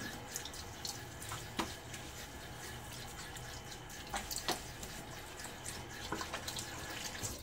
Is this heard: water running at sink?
yes